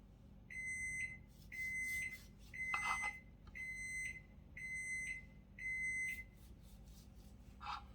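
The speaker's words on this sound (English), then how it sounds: "that was my oven beeping, letting me know that I'm preheated to 350 degrees" An oven timer beeps in a steady series of six long electronic tones, each followed by a short pause, over a low background hum, signalling the oven has preheated to 350 degrees.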